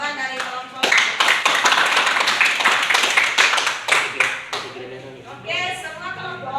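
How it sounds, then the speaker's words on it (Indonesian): A classroom of students applauds together, a sustained burst of clapping hands that runs several seconds, swells, then tapers off as a voice speaks near the end. "beri aplaus untuk jawaban dari kelompok 1"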